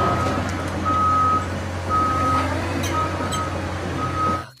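An excavator's reversing alarm beeps in a slow, regular series of high tones over a steady diesel engine rumble, fairly close and loud, with no talk.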